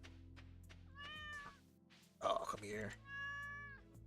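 Cartoon cat meowing in the farming video game Stardew Valley, two drawn-out close meows separated by a brief burst of game sound, with soft speech heard at the start.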